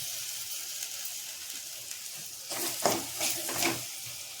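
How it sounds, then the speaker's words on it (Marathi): Coconut, ginger and garlic paste hits a hot pan for a Maharashtrian moong dal aamti, hissing softly before a burst of stirring scrapes and louder sizzling near the end. "आता यामध्ये आपण जी खोबरं, आलं लसणाची जी पेस्ट बनवली होती, वाटण म्हणतात, ते थोडंसं टाकायचं आहे."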